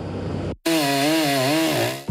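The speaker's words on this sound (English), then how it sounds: "Chainsaw noise greets you as you walk down West 60th Street" A chainsaw cuts up branches from large trees snapped by Tropical Storm Colin along a city street, loud and close, its engine dropping out briefly and then revving into a sustained, wavering whine.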